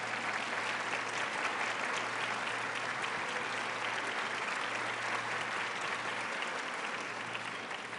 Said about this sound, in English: I know we're getting you to applause a lot, but don't stop eating.